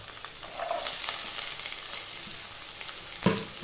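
A medium-size onion frying in a pan for a matar potato dish, a steady close sizzle with a few soft stirring scrapes and a brief clack near the end, with no talk.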